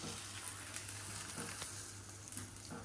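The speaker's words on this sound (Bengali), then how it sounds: "স্পেশাল ডিম ভাজা" An egg fries in a pan with a soft, steady sizzle and a few faint spatters, fairly quiet and close throughout the brief stretch.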